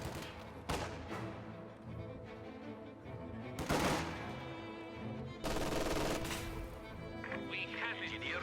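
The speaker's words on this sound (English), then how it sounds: "Machine gun, open up!" Machine gun fire rattles in a real-time strategy video game match, several loud sustained bursts of rapid shots with other game sounds and radio-style unit voices mixed in.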